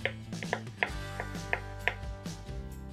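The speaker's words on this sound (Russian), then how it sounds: "1 вареное яйцо тоже нарезаем маленькими кубиками." A knife chops a boiled egg into small cubes on a cutting board, giving a series of crisp, close taps at an uneven rhythm, with faint music underneath.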